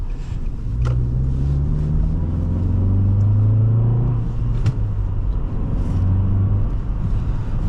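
A 2008 Nissan Altima 2.5 S sedan with a six-speed manual pulls hard under acceleration, its engine note a steady low rumble with rising pitch sweeps as it revs, plus a couple of brief sharp clicks, heard from inside the cabin with no talking.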